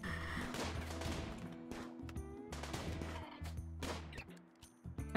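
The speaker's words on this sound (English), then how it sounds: "I think you guys are actually getting better at shooting." Gunfire in the video game RimWorld during a modded tribal playthrough, a rapid, dense string of shots and impacts with game music underneath, fading near the end.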